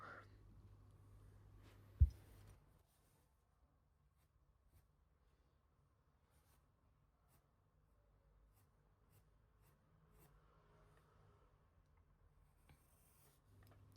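Very faint, soft scratching of a sharpened pencil making stroke lines to draw braided hair on paper, close but quiet, in an otherwise near-silent room with no talking.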